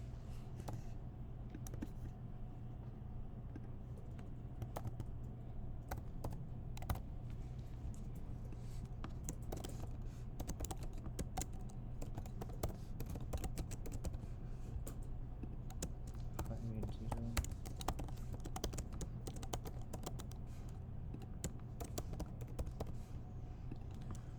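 Typing on a MacBook keyboard, a steady run of light key taps lasting the whole stretch over a constant low hum, close to the mic.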